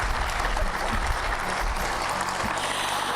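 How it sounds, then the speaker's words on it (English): Steady audience applause at a CPA association luncheon, dense and sustained throughout, filling the room evenly without any voices on top. "let's get a good round of applause"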